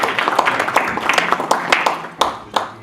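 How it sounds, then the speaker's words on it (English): A breakfast roundtable audience gives a round of applause, many hands clapping in a dense, steady patter for about three seconds that thins out toward the end. "I think we should give him a round of"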